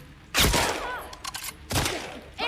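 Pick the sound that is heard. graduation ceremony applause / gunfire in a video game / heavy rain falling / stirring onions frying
gunfire in a video game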